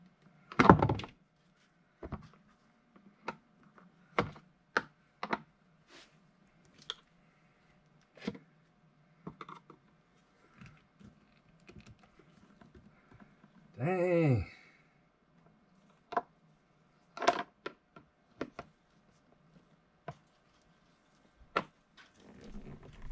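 A plastic rearview mirror mount is worked onto a John Deere 120R loader on a 2025R tractor, giving sparse sharp clicks and thunks over near silence, with a voice speaking briefly.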